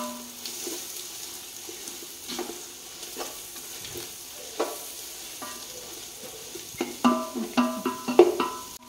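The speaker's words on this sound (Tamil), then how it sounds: "இது போட்டுட்டு நல்லா வதக்கிக்கணும்." Spices frying in a pan for chicken biryani, a quiet sizzle under intermittent spatula scrapes and taps, growing into sharper clinks and stirs near the end.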